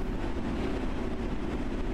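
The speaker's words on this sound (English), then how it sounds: "switch on the train" London Underground train in the video game World of Subways 3 switching on, a loud steady low hum and rumble from electrical equipment, continuous and close with no talking.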